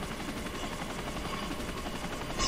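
Helicopter rotor noise inside a real-world style video game, a steady dense whirring drone that holds level throughout at moderate loudness, with no voices present.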